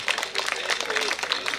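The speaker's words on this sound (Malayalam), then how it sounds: "ഉള്ളവരൊരു കയ്യടി കൊടുക്ക്" Applause at a jubilee cultural festival greets a singing prize winner, with scattered hands clapping in a loose, fairly steady patter at moderate volume while a voice sounds faintly beneath.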